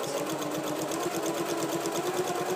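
A sewing machine stitching curtain lining fabric hums and clatters in a fast, even needle rhythm, steady and close throughout the short stretch, with no talking.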